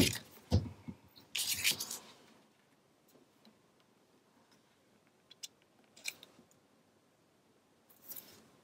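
Scissors snipping paper while trimming a fishtail end on a Graphic 45 Alice's Tea Party paper-craft piece: a quick cluster of close, crisp cuts early on, then quiet with a few light ticks and two brief later snips.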